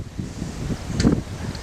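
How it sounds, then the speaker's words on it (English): Wind buffeting a camera microphone on a hot, windy day at an outdoor picnic area, low rumbling gusts that swell and ease unevenly, loudest near the middle. "It's a windy day, as you can probably hear in the viewfinder."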